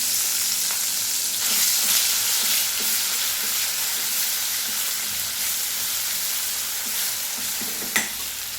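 Ground masala paste fries in hot oil with a loud, steady sizzle and hiss, broken by faint stirring scrapes and one sharp clack near the end.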